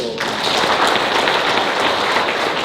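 Audience members at a Korean workplace training seminar applaud, a loud, close burst of many hands clapping that fills the whole short stretch evenly, following a brief voice at the very start.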